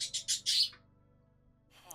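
A pet bird chirps loudly nearby in a run of four quick tweets, then falls quiet before another short call starts.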